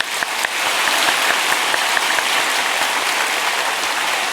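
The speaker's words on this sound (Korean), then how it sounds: "저희가 우리 박수로 환영해 드리겠습니다" Warm, continuous applause from a church congregation welcoming its elders during a Sunday service, a dense, even wash of many hands clapping throughout.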